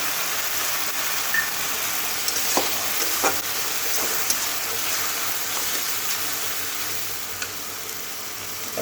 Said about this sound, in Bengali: ভালো করে মশলাটা আমি এখন ভেজে নেব